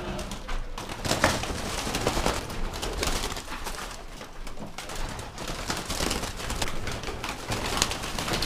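Pigeons coo continuously inside a loft, a dense layered murmur of many birds close by with occasional wing flaps, and no talk.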